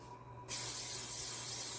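Cooking spray hisses from an aerosol can as a bread pan for whole wheat bread gets greased, one continuous close spray starting after a brief quiet moment.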